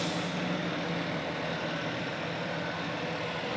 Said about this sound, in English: I see Rebecca Nager in the Ozora fire truck.